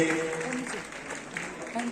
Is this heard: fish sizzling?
no